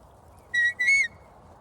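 A shepherd's two-part whistle command to a sheepdog, a short high blast followed by a slightly longer rising-falling one, sharp and clear over quiet background hiss.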